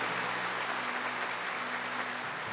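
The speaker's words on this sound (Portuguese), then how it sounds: "Pode aplaudir com força" A church congregation at a Catholic Mass applauds strongly, a steady, even wash of many hands clapping, faint and somewhat distant.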